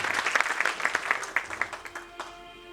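Audience applause at a live stage program during Prabodhan 2013, with a dense burst of clapping that gradually thins out and fades toward the end.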